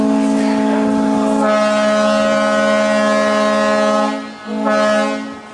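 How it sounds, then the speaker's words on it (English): The Miss Buffalo II cruise boat sounds its horn at departure from the pier: a loud, sustained harmonic blast lasting about four seconds, a brief break, then a second shorter blast, with no talking. "the captain will make a quick warning to make passengers aware of the boat's horn blasting"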